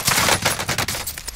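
Incoming automatic gunfire during a multiplayer shooter match, a short, loud volley of rapid shots with uneven spacing, close and unaccompanied by talk.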